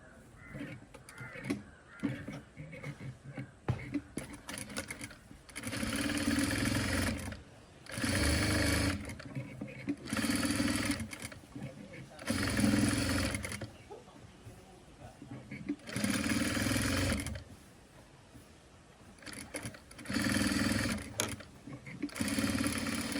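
A sewing machine stitches the folded edge of a modern top in repeated bursts of loud running, with short pauses between runs and crows cawing in the background.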